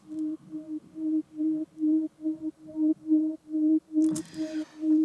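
A soft single-note sine wave synth pad for techno, with no upper harmonics, pulses in a steady rhythmic pattern of short repeated tones, gentle and mellow, with a brief noisy burst near the end.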